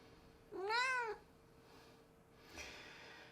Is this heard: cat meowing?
yes